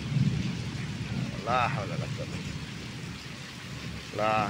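Steady rain hisses throughout at midnight near the India border, with a voice breaking in briefly twice over the downpour.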